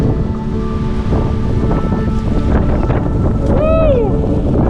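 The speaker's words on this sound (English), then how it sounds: "So the wind is something fierce right now." Strong wind roars steadily across the microphone at a lake beach by a North Georgia campground, a loud, constant gusting rumble that fills the whole stretch.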